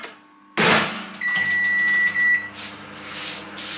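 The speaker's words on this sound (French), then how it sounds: "Je suis désolée pour le micro-ondes que vous allez entendre tourner." A microwave oven runs with a low steady hum, marked by a sudden thump, a sustained electronic tone and a few soft rustles close by.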